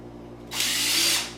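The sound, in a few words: drill driving screws into wooden cabinet face frame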